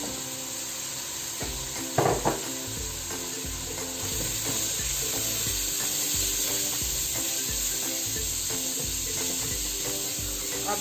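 Spices and a crumbled chicken stock cube sizzle and fry in a pan for tandoori pasta. The steady close sizzle carries a few scraping stir sounds and a brief clatter as the spices go in, with no talking.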